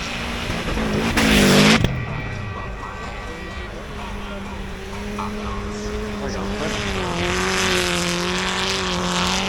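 A blue Subaru car roars and revs hard as it accelerates away in a drag race, tires briefly squealing, with a voice talking over the rising engine note.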